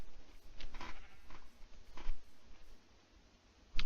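Sheep bleating in the TerraFirmaCraft video game near a new pasture and barn, a few soft, separate bleats spread over several seconds against a quiet background.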